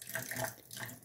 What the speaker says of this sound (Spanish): Y ahora sí, le echamos agua